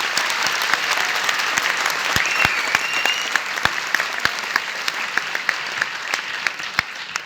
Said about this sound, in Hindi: अचीवर्स के लिए एक बार जोरदार ताली होनी चाहिए।